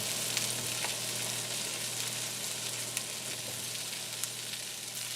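Mixed vegetables hit melted butter in a frying pan for a frittata and sizzle steadily and fairly loud, a dense continuous crackle with scattered sharper pops throughout.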